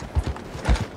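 Horse hooves clip-clop in a quick, uneven rhythm in the video game Red Dead Redemption 2, several close, hollow knocks within a second.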